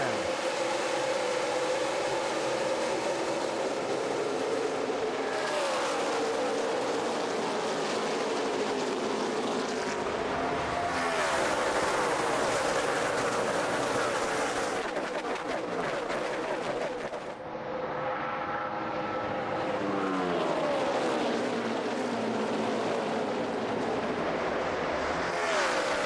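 NASCAR Sprint Cup cars take the green flag at Chicagoland Speedway in 2011, a dense, loud roar of many engines sustained throughout, with rising and falling pitch sweeps as cars pass and accelerate.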